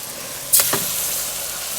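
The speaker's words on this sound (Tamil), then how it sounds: "அடுத்து வந்து மட்டன் போட்டுடலாம்" Mutton pieces hitting a hot pan for a spicy curry, a sharp burst of sizzle at the moment they drop in, then a steady low frying hiss, close and without speech.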